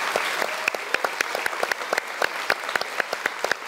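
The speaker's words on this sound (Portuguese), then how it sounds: "Salve de palmas da USP, obrigado." Studio audience applauds for visiting USP professors at a televised Brazilian music show, a close crowd clapping with distinct individual claps standing out in an uneven rhythm.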